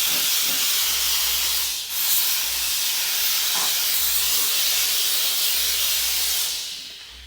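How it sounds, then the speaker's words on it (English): A Wagner Spraytech 915e steam cleaner blasts steam into a stove, a loud continuous hiss with a couple of brief breaks, low pump pulses underneath, then the hiss tails off at the end. "that is like steam cleaning a stove"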